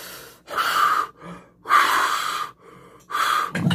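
Deep, audible breaths drawn in and pushed out several times during a mock ER doctor exam, loud and close, with gasping intakes and a final snort-like exhale.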